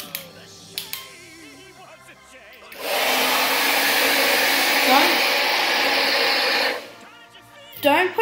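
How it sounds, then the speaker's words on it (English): A hair dryer blows steadily for about four seconds over crayon art, a loud whooshing hum that switches on and off between quieter moments of talk. "Don't point the hairdryer towards all your shredding, like, stuff, because it will go away."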